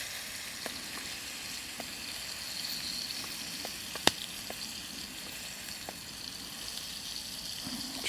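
Pork shoulder fries quietly on a Titanium Bushbox XL stove outdoors, a steady faint sizzle with scattered small pops and one sharper crackle midway, no voices.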